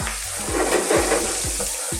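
Ginger strips and spices frying in hot oil for an Indian aloo keema minced beef and potato curry, a steady close sizzle with soft crackling and a few low knocks, no talking.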